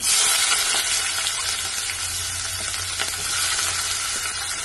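Cauliflower, potato and sliced onion frying in oil in a pan for a gravy curry, a loud continuous sizzle with scraping stir strokes close by, no talking.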